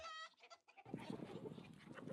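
Chickens cluck and murmur while pecking at food scraps outdoors, a busy close chorus following a short burst of an unrelated tonal sound.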